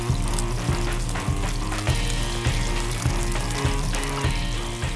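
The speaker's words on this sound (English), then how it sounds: "Just before the olive oil starts to smoke, sea bass in." Sea bass fillet frying skin side down in hot olive oil in a pan: a dense, steady sizzle and crackle filling the clip, loud and close, with a rhythmic clatter running through it.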